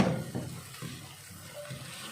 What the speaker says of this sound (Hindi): अभी मैं इसके अंदर पानी डालने लगी हूँ।